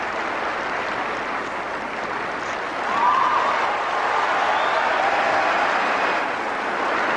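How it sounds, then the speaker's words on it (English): A large arena crowd applauding and cheering figure skaters Gordeeva and Grinkov during their program, a broad continuous roar that swells slightly midway. "The crowd, however, continued to encourage the skaters as they continue to skate"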